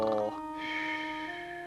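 A voice imitates a bear snoring in a children's bedtime story, giving one drawn-out, breathy snore that is close and fairly loud, with no other sounds around it.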